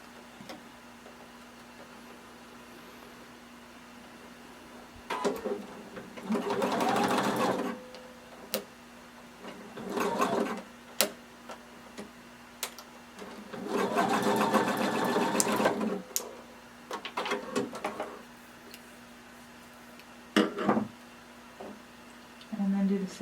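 A sewing machine stitches swimsuit fabric in a few separate bursts of rapid whirring, each lasting a couple of seconds, with quiet pauses between and soft handling clicks close by.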